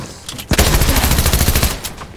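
Rapid SMG fire in a video game, a loud close burst of fast shots lasting over a second after a brief pause, with no talk.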